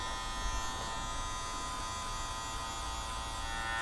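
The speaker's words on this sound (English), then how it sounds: "then go shorter with the mini clippers" Mini electric hair clippers buzz steadily and close during a skin fade haircut, a continuous even drone with no pauses or talk.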